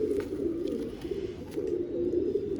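A female Rampuri Kalanch pigeon coos softly in low, rolling murmurs that run continuously at close range, with no voices over it.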